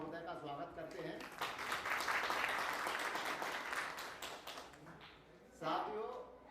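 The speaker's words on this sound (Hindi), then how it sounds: "आज हम सब तालियों के गड़गड़ाहट के साथ आज की सभा में तहसीलदार महोदय का स्वागत करते हैं" A crowd at a retirement gathering bursts into applause for several seconds, dense and fairly loud, between stretches of a person speaking before and after.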